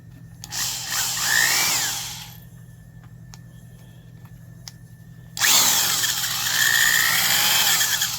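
A 1980s Black & Decker Heavy Duty 3/8-inch carpenter's drill spinning in reverse, its motor whining in two loud runs separated by a quieter pause with low hum, the second burst starting abruptly and holding steady to the end.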